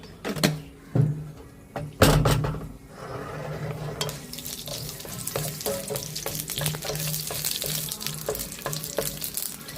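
Mustard seeds and dried red chillies frying in hot oil in a pan. A few loud knocks and clatters come first, then a close, busy sizzle with quick crackling pops throughout.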